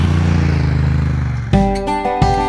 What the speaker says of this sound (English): punches further up the revs with a satisfying dirt bike sounding